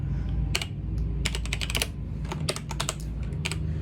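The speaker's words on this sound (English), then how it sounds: "then you're going to type up the instructions" Brisk computer keyboard typing, close and clear, while instructions for a custom GPT business planner are entered, coming in rapid bursts of keystrokes with short pauses between them.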